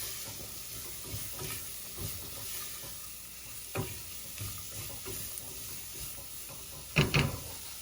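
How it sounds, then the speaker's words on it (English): Chopped green mangoes sizzle faintly in a pan over a low gas flame, under soft irregular stirring scrapes and a few louder knocks of the spoon. "we add the chopped mangoes. Mix it well. Keep the gas flame at low."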